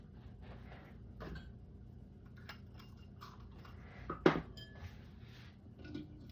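A fresh egg cracked against the rim of a bowl for chocolate cupcake batter: one sharp knock stands out among light clinks and taps of dishes and utensils in a quiet kitchen.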